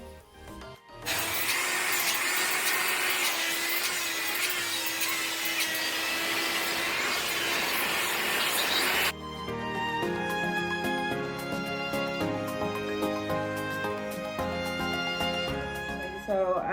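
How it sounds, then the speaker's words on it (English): A hair dryer blows steadily on a lace front wig, a loud continuous whir that runs for several seconds and then shifts to a lower, quieter setting until the end. "apply that, blow dry it to this wig"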